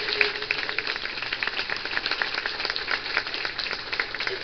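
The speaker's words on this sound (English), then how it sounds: "a nice round of applause for the entire family" A retirement gathering gives a round of applause for the family, a steady, slightly muffled wash of many hands clapping, sustained throughout at moderate distance.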